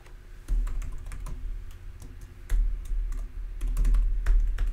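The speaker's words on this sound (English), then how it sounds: "I'm typing it in there so you can just cut and paste it." Someone types at a computer keyboard, the keys clicking in quick, irregular bursts close by over a faint steady background hum.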